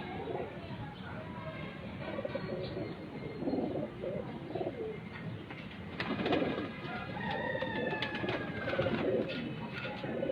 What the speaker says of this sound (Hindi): अब ये कबूतर देखें, मैं अब आपको इसकी पट्टी दिखाता हूँ।